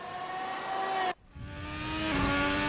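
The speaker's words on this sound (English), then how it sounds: "Maybe now you can hear some engine sounds rather than just my voice." An F1 car in a sim racing game at the Mexico City circuit sends out a loud, steady, high engine whine that cuts out abruptly for a moment, then returns and climbs as the revs build.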